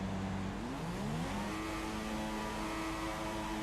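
Race car engines in F1 2016 revving hard at the race start, pitch climbing as the cars accelerate away together, loud and continuous with no voices.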